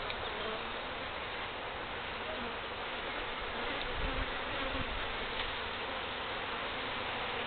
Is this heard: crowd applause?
no